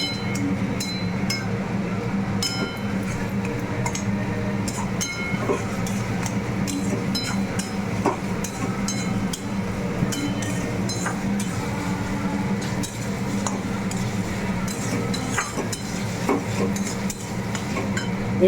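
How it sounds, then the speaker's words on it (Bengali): Spices with turmeric powder stirred in a pan for a jackfruit seed and dried fish dish, with continuous scraping and clinking of a utensil against the pan over a low background sizzle. "পরিমাণ মতো হলুদ গুঁড়ো দিয়ে আবারও আমি নাড়তে থাকবো।"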